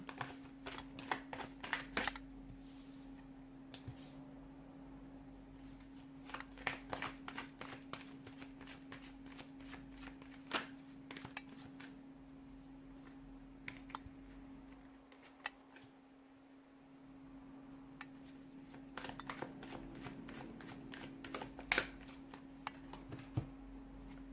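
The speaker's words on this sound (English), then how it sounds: "give the cards a shuffle, and let's begin" Cards are shuffled over and over in quick, crisp riffling bursts, close and fairly quiet, against a faint steady hum with no talking.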